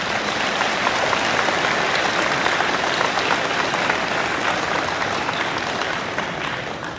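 Audience applauding at a high school awards day ceremony for students in grades 9 to 11, a steady sustained clapping from many hands that holds throughout and eases off slightly at the end.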